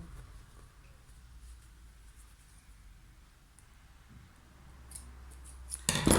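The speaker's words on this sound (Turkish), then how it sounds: "Çıtımı kesiyorum. Buradan da kesiyoruz çıtımızı." Scissors snipping small notches into denim trouser legs while converting jeans into shorts, a quiet steady cutting texture building to a few louder close snips at the end.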